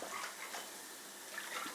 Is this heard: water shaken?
yes